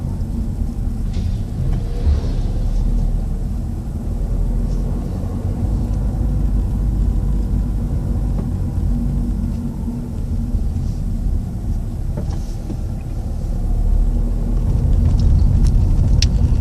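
Car being driven on a driving lesson through the streets of Gennevilliers, a continuous low cabin rumble of engine and tyres on the road, steady and fairly loud throughout.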